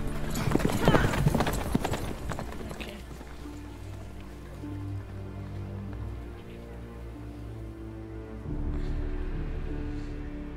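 Horse hooves clip-clop in a steady galloping rhythm in the video game The Witcher 3: Blood and Wine, loudest at first, while people talk over the hoofbeats.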